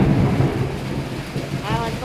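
Thunder rolls through a rainstorm over a village, a loud, low rumbling that swells and fades over a couple of seconds above the steady patter of falling rain.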